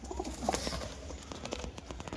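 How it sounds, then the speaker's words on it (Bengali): A pair of performing pigeons coo softly and repeatedly up close, with faint rustling and quiet background noise. "এই এক জোড়া নরমাদি দেখাচ্ছি তোমাদের, একদম নিচে বাজির কবুতর।"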